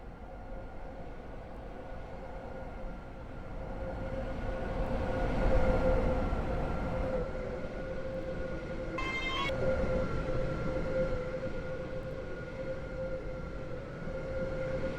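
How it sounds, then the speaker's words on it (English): A train pulls into a platform at Stepford Central station, a steady rumbling roll that swells to a peak midway and eases off, with a faint sustained tone and a brief high chime over it, no speech. "The train now approaching platform 1 terminates here."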